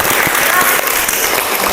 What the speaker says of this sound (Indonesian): Terima kasih tepuk tangan untuk semuanya dulu.